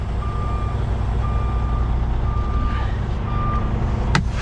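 A truck backing toward a trailer's fifth wheel sounds four evenly spaced reversing beeps over a loud, steady diesel engine idle rumble, followed by a short sharp hiss.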